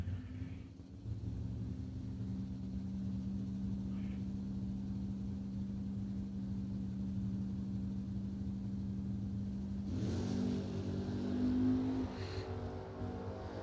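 Corvette drag racing at a bracket race event: a steady loud engine drone holds for several seconds, then surges and rises in pitch as the car accelerates, with no talk.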